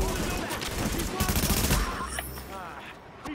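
Gunfire in the video game Tom Clancy's The Division, rapid bursts of automatic shots and sharp impacts with someone talking over them, the firing thinning out toward the end.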